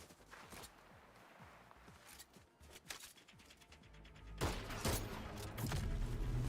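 Gunfire in Fortnite, a few scattered shots at first, then a louder burst of rapid firing near the end amid game noise, with no talking.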